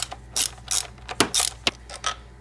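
A hand ratchet loosens an E10 fastener on a Mercedes ground connection, giving several short, rapid clicking bursts in an uneven rhythm, close and fairly loud, with no voices.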